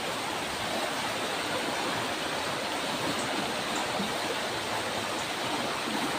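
A creek flows in a continuous, dense rush of water, steady and fairly loud throughout, with no voices over it.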